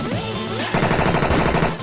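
Machine gunner opening fire in the game I Want To Be Human, a sudden dense burst of rapid automatic shots that starts partway in and runs loud and steady to the end, over game music.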